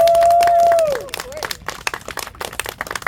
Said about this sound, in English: And a little applause machine there going